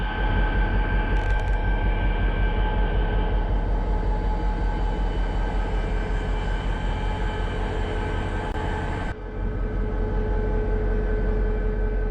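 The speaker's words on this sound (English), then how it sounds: "You got the White Pass Railroad train right up here." A White Pass Railroad train rumbling close by in Skagway, Alaska, a heavy, continuous drone with a steady mechanical hum that holds throughout, briefly dipping near the end.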